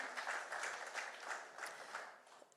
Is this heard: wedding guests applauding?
yes